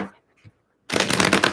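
A deck of tarot cards is shuffled briskly after a short quiet pause, a quick riffling flutter up close.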